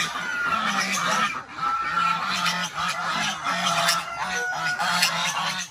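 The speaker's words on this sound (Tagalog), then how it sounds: "Ito yung mga gansa natin." A group of farm geese on a mountain homestead honk repeatedly in short, nasal bursts, several birds calling close together in an uneven rhythm over a noisy outdoor background.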